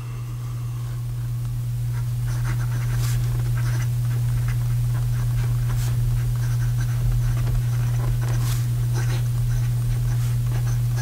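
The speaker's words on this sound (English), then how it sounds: "And here we go with the writing sample." Graf von Faber-Castell Guilloche fountain pen with a gold nib writing on paper, a faint continuous scratch with small strokes over a steady low hum, close and quiet.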